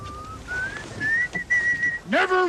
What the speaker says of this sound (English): Never whistle in a ship, son.